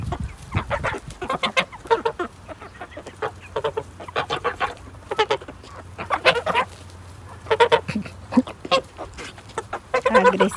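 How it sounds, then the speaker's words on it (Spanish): Repeated loud honking and cackling calls from a goose, in irregular bursts close by, with birds and farmyard noise around. "Agresivo, ¿no? Este ganso"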